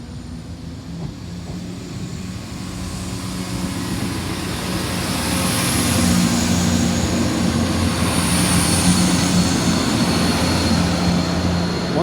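A Class 170 diesel train bound for Stansted Airport passes a level crossing on the Stamford line, a steady engine rumble that builds over several seconds and holds loud and near, with no talking.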